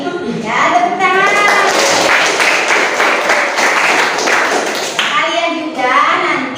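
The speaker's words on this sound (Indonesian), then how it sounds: "Ya, tepuk tangan." Classroom of children clapping their hands together in a dense, steady burst, with kids' voices chattering before and after the applause.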